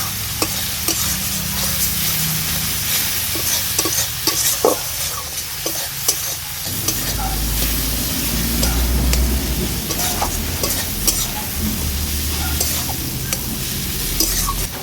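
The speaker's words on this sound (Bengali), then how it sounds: "সব কিছু ভালো করে মিশিয়ে নিচ্ছি" Spices and chili powder are stirred in a pan for a chana soya masala, with a loud, continuous sizzle of frying and a close, constant scraping of the spoon throughout.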